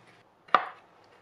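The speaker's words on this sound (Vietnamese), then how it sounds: "Mình cắt lát dày khoảng 8 ly" A knife cuts once through a block of tofu onto a cutting board, making a single sharp chop midway through the clip and fading into quiet.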